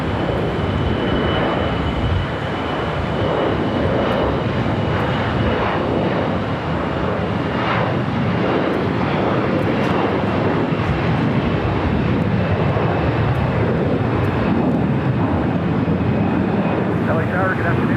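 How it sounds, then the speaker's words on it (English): A Delta Airbus A321 accelerates down runway 25 right at LAX, its jet engines a loud, steady broadband roar held at close range for the whole stretch. "Delta A321 now rolling down 25 right."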